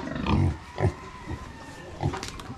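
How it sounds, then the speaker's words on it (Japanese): Brown pigs on a farm grunt in short low bursts, three or four close grunts spaced apart with quiet pauses between. "茶色豚同士仲良しということで撮影してたんですが"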